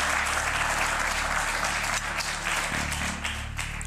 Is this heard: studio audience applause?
yes